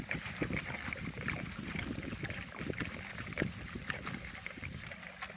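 Diesel fuel pouring into the tank of a Volvo 240, a faint continuous liquid trickle and gurgle under outdoor background noise.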